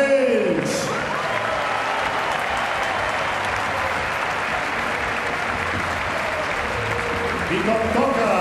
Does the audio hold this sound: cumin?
no